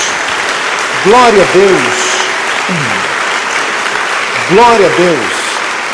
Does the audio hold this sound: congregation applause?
yes